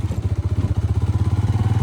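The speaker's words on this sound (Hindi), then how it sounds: "आज हम बाइक लेके जा रहे हैं।" A motorcycle ridden along a village road after heavy flooding, its engine thumping in a steady fast low pulse, loud and close throughout with no talk.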